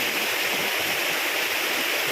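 Huai Khe waterfall in Thailand pours in a steady, loud, close rushing roar of falling water, a continuous broadband hiss with no pauses and no voices over it.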